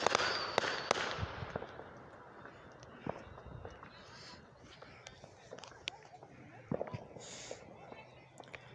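Fourth of July fireworks exploding outdoors, with sharp bangs and crackles scattered irregularly, several loud near bursts early, then fainter distant pops amid soft crowd murmur.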